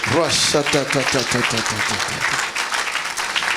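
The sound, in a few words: audience cheering and applauding for Jesus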